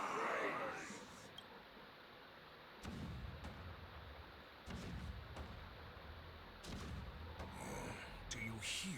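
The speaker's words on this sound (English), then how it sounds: "The rumble of the cannons." Deep, booming rumbles of video game cannon fire roll in at intervals, each burst followed by a lingering low roar, fairly distant and heavy.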